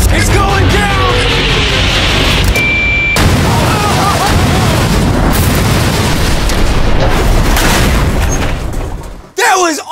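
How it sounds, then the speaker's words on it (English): A huge explosion booms out close and very loud. A dense, roaring blast rumbles on for several seconds, with voices shouting over it before it suddenly drops away. "at least we blew it up. But that explosion is literally nothing compared to what you're about to see"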